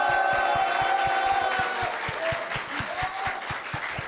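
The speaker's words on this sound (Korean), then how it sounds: "그럼 그 반가움의 마음을 박수로 한번 표현해 주시겠습니까?" Students from Dongsung High School, aspiring seminarians, clap together in a steady burst of applause that fills the room, with no talk over it.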